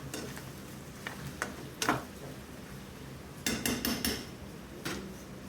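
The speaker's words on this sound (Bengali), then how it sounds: "দেখছেন চামচ ঘোরানোর স্টাইল কি" A spoon stirs inside a cooking pot, making a handful of sharp metallic scrapes and clinks. A quick cluster of them comes near the end over a low cooking hiss, with no voices.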